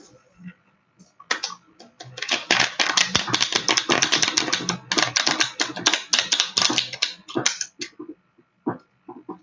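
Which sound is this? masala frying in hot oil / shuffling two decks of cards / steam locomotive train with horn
shuffling two decks of cards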